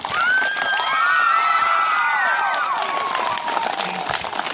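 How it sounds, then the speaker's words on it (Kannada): A crowd of schoolchildren and villagers clapping and cheering loudly for guests at a village school event, a continuous dense wash of applause with shouts throughout. "ಅಂತೂ ಜೋರಾದ ಚಪ್ಪಾಳೆ"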